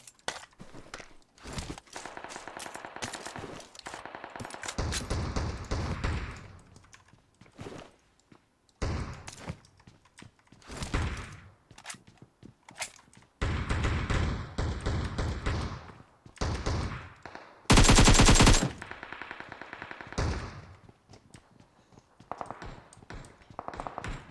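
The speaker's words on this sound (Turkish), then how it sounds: "Oğlum hala etrafta bir sürü silah sesi var." Gunfire in the battle royale game PUBG Mobile, scattered sharp shots and thuds in irregular bursts, some close and loud, others distant, with footstep-like taps between them and one harsh burst of noise.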